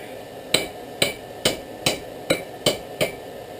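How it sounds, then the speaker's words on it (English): Blacksmith's hammer striking a rebar knife on an anvil in a backyard forge: seven sharp metallic blows at a steady rhythm, each ringing briefly, close and clear with no talking. "start at the anvil here and bash that in"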